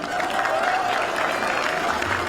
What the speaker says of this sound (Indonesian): Kita minta tepuk tangan dukungannya.